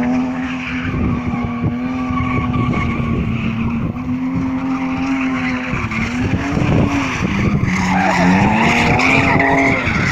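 A drift car skids around the track at Crail, its tires squealing in long, loud, wavering wails over a throbbing engine roar, continuous for the whole stretch and swelling as the car slides closer.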